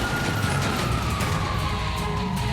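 A police car siren from a video game wails steadily, its sliding high tone running continuously over a dense, loud rumble of engine and traffic noise.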